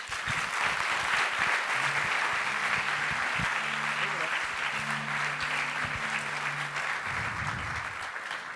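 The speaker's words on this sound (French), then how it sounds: "Merci d'applaudir très fort." An audience applauds steadily for about eight seconds at a small evening gathering, dense continuous clapping throughout with a low hum underneath and a brief voice near the end.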